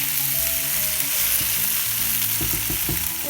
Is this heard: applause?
no